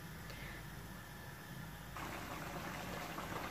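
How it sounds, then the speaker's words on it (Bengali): Khichuri boiling in a covered pot, a steady quiet bubbling hiss that grows slightly louder partway through, with no voices. "এ পর্যায়ে আমার খিচুড়িটা বলক চলে এসেছে"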